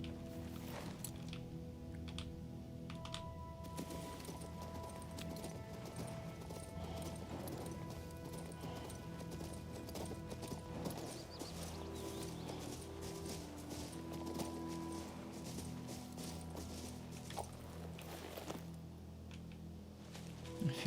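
A horse in the video game King's Bounty II clip-clops along at a steady walk, soft rhythmic hoofbeats under a continuous tonal music bed and ambient game sound.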